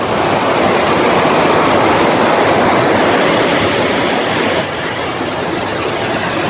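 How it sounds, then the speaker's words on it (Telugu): Water gushes forcefully from a single open gate of the Kalavagunta dam near Chittoor, with the reservoir full. A loud, continuous broadband roar of churning water holds close and steady the whole time, easing only slightly near the end. "కింద వాటర్ అయితే చూడండి ఎంత ఫోర్స్గా వెళ్తుందో"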